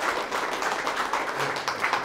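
Warm applause for an artist at an abstract painting gallery event in Berlin, steady brisk clapping from a small crowd, close and even for the whole two seconds.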